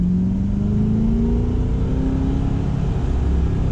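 A 2021 Chevrolet C8 Corvette with its mid-mounted engine close behind the cabin pulls hard under acceleration, a steady loud engine note climbing in pitch over the whole stretch with no talk.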